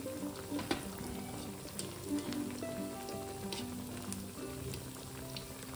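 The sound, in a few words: sabudana vadas frying in oil on low gas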